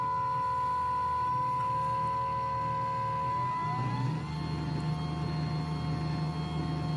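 A seed drill's electric metering motor running its calibration in a workshop: a steady whine with droning tones that shift pitch partway through as it changes speed, running continuously and fairly loud.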